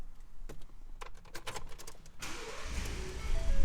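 A 2018 Ford F-150 XLT crew cab 4x4 pickup engine cranks and catches after a few sharp clicks and knocks from inside the cab, then settles into a loud, steady idle rumble.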